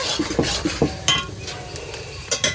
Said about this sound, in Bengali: তাই কড়াইয়ের তলা একটু লেগে যাচ্ছে তো এটাকে ভালো করে নেড়ে চেড়ে